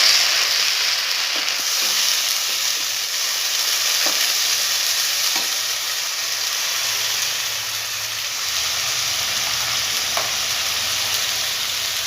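Tomato juice poured over onions sizzling in a pan for a coconut chickpea curry, stirred now and then, a steady close hiss with a few faint scrapes.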